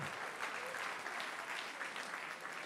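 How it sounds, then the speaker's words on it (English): Faint, distant crowd applause rolls on steadily at the Los Angeles Builders Ball, a Habitat for Humanity charity gala, as donors are cheered at a fundraising level. "Big round of applause for yourselves and for Aaron and for Wally"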